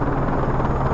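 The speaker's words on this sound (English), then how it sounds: "Enemy chopper closing on your position" An enemy helicopter in Call of Duty Modern Warfare 3 gives a loud, steady rotor drone with a low throbbing hum, brief and close.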